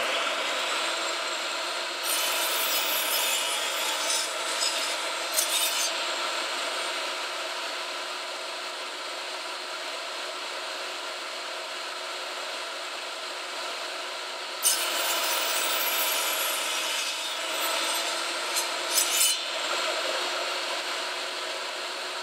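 A DeWalt table saw cuts a 2x4 on a crosscut sled, giving two steady whining, rasping passes with a quieter stretch between them. The saw sounds close and fairly loud, and no one talks.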